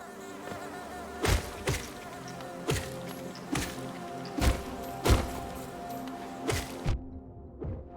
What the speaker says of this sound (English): Bees! Well, this should be bee time.